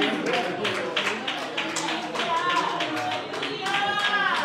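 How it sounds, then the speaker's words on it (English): A church congregation claps hands in rhythm during worship, a steady repeated pattern of claps beneath voices talking and praising throughout. "Please clap your hands unto the Lord right now,"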